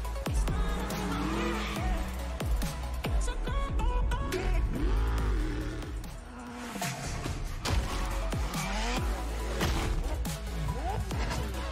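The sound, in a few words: McLaren car driving in video game expansion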